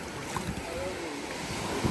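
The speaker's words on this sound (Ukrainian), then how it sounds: "Ці хвилі для вас." Sea waves wash onto a sandy beach, a steady broadband rush with wind buffeting the microphone, faint and continuous with no clear break.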